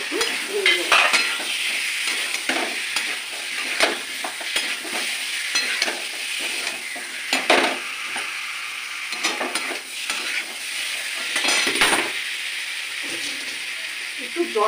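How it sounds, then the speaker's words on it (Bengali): Boiled potatoes fry in oil with green chillies, a close, lively sizzle broken by repeated scraping and knocking stirs of a spatula against the pan. "এবার আমি আর সিদ্ধ করা আলুগুলো দিয়ে দেবো, দিয়ে একটু ভেজে দেবো"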